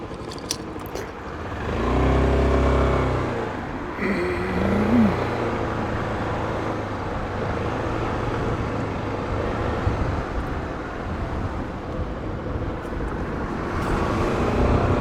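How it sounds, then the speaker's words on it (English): A Royal Enfield motorcycle passes along a Tokyo street, its engine swelling to a loud low rumble and then fading into steady roadway traffic noise. "That dude was driving a Royal Enfield."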